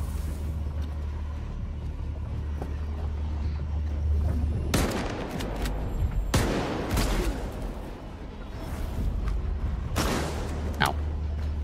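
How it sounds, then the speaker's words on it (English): Enemy gunfire in S.T.A.L.K.E.R. 2 rings out as a few loud, sharp bursts that rise over a steady low rumble, with sporadic crackling shots scattered in between. "Can we pick up those guns that they're using to fire at us?"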